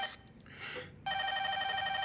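A telephone rings with a bright electronic trill that starts abruptly partway through and repeats rapidly at steady volume, preceded by a few faint indoor sounds.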